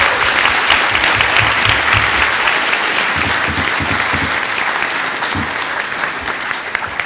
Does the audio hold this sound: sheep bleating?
no